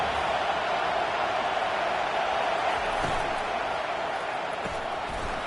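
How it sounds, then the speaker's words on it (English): A stadium crowd at a football game roars as a dense, sustained wall of noise, loud and steady throughout. "Listen to this crowd just shaking the girders of this place"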